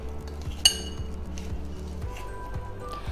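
Quinoa salad ingredients for an Indian vegetarian meal are gently tossed in a bowl: one sharp utensil clink against the bowl, then soft stirring over a low, steady rhythmic hum.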